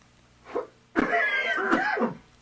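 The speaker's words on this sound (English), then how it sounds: "First, the coughs." Two coughs, a short one followed after a pause by a longer, harsher burst, loud and close with nothing else around them.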